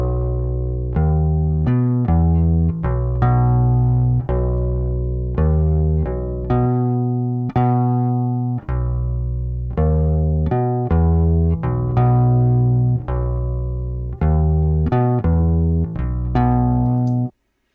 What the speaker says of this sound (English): I'm going to go ahead and hit play and listen to the bass.